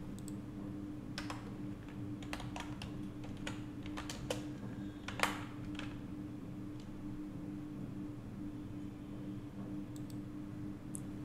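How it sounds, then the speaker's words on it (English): Someone types at a computer keyboard while working in Houdini 3D software, scattered quick key clicks arriving in short irregular bursts over a steady low electrical hum. "Actually we are typing entire name here,"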